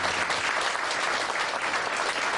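A church audience claps for an introduced elder, a dense, even burst of applause that fills the room throughout the short stretch without letting up.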